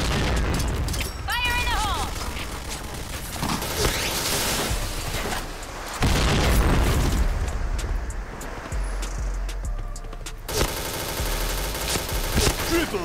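Grenade blasts and dense gunfire in the Point Blank shooter game in Indonesia, a busy, loud stream of booms, rapid bursts and sharp bangs layered over game voice announcements and electronic effects.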